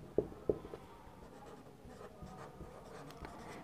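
Marker or chalk writing on a board during a biology class, quiet scratchy strokes with two sharper taps near the start, then faint continued scribbling in a hushed room.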